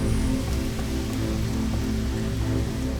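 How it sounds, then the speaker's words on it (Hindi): In a Gulli Bulli cartoon scene, rain pours down as a dense, steady hiss at full volume. It stays constant throughout, with no speech over it. "थोड़ी ही देर में बारिश फिर से शुरू हो गई।"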